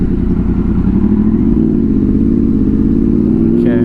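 A Honda VFR800 motorcycle ridden on the road holds a loud, close, steady engine drone with a slight wavering throttle and no clear revving peak.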